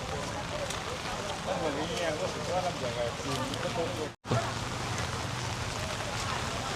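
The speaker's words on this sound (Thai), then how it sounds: "ฝนตก" Steady rain pattering on surfaces at a morning market in Khemarat, Ubon Ratchathani, a dense hiss with soft voices chattering faintly beneath it, broken by one brief silent gap.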